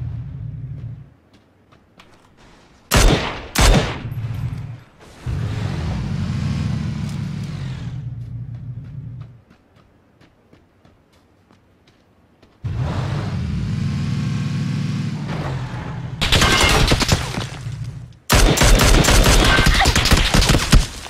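Bursts of gunfire in a shooter video game, with sustained automatic volleys and a few sharp single shots, loud and close, separated by near-silent gaps.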